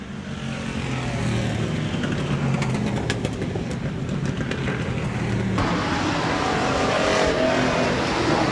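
Sportsman class race cars roar through a heat race at Rapid Speedway dirt oval, a dense, continuous engine din that swells louder in the final seconds.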